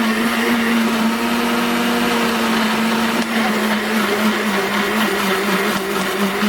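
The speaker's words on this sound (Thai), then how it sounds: "ปั่นเลยค่ะ ปั่นให้เข้าๆกันนะคะ" A countertop blender whirs steadily and loudly, blending an oil-based homemade lice remedy; the motor hum holds a constant pitch for the whole stretch with no voices.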